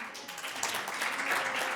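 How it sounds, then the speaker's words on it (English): Audience applause after a talk, a soft steady patter of many hands clapping that swells slightly and continues without pause. "a big round of applause"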